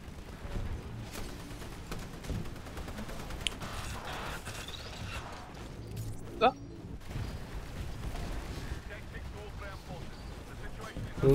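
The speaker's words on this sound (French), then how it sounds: "Des explosions d'éclair un peu partout là." Gunfire and explosions from the PC shooter Titanfall, with titans in play, form a dense, continuous crackle of shots and booms. One sharp burst stands out near the middle, and someone talks over it throughout.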